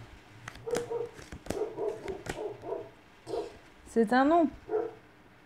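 Dogs bark several times in short, sharp bursts somewhere in a room, with a yip or whine rising near the end, partly under someone speaking French.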